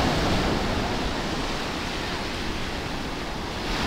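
Heavy surf from large waves during a typhoon at the coast of Baler, a continuous roaring wash of breaking water mixed with wind noise, loud and close with no talking.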